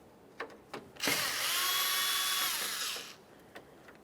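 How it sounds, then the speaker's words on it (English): A power screwdriver backs Phillips head screws out of the front grille of a 1994-1997 Honda Accord, with a steady whirring burst of about two seconds. A few small clicks come before it and after it, with no talking. "We're going to remove the front grille by removing several Phillips head screws across the top"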